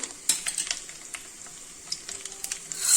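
Mustard seeds and chana dal sizzle in hot oil in a pan. The crackle is bright and steady and close, with scattered pops and light stirring clinks, and no voice.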